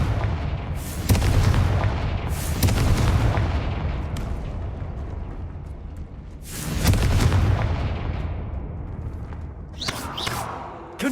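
Repeated Confringo fire spell explosions in the video game Hogwarts Legacy, several heavy booming blasts a few seconds apart, each with a rolling rumble tail, loud and close.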